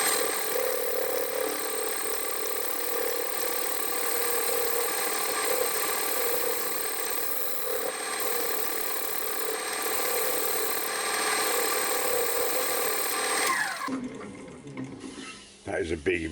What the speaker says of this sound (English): I've gone to a nice freshly ground scraper, and that's doing the job a lot better.